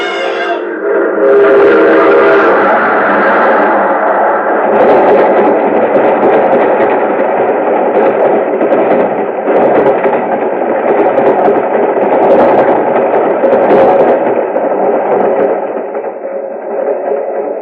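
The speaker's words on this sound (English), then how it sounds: "There's a train coming." A train rumbles past loud and steady, with a horn blast at the start and a continuous roar of engine and wheels.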